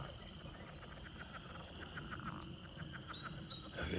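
Frogs croak in a steady series of short repeated calls at night outside near a pasture after a storm, with insects buzzing faintly underneath and no voices.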